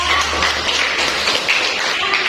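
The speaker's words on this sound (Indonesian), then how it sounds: "tepuk tangan buat kelompok 2" Classmates applaud a student group after a practical lesson in a primary school classroom, a steady dense patter of many hands clapping for a couple of seconds at close range.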